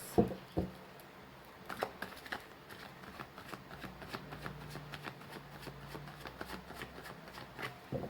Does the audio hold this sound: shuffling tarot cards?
yes